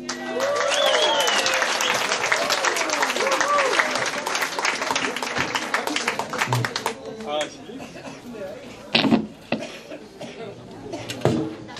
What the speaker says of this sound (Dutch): Dames en heren, maak ik een hartverwarmend applaus voor Ruud Vreeman